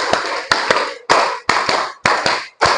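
Children in a classroom clap a rhythmic pattern together, loud and close, in repeated groups of sharp claps separated by brief pauses.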